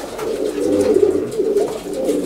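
A racing pigeon cooing close by, soft repeated throaty coos rolling in a steady rhythm, with no voices over it.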